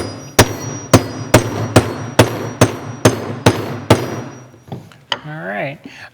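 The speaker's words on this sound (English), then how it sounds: "So I'm going to use this big kind of hardware hammer." A heavy steel-headed hardware hammer strikes a steel bench block in about nine sharp, evenly spaced blows that ring briefly, loud and close, followed by a short spell of speech.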